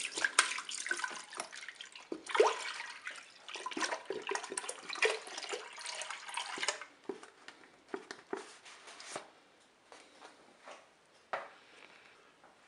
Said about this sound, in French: On commence par verser le lait dans la cuve.